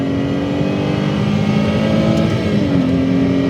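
Ford Mondeo ST220 engine winding out in 2nd gear and shifting to 3rd, a loud steady drone inside the car whose pitch dips only briefly at the change before climbing again.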